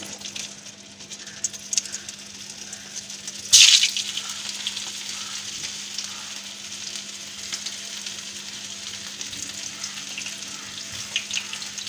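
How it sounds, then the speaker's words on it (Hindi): Potato kebabs shallow frying in hot oil give a steady, close crackling sizzle, with a sharp louder hiss bursting up briefly partway through before settling back into an even fry. "इसको शैलो फ्राई करना है, तो इसको फ्राई करते हैं"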